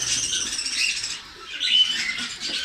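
Pet parrots in a home aviary squawking and chattering in a dense, continuous burst of harsh calls, fairly close and steady throughout with no talking.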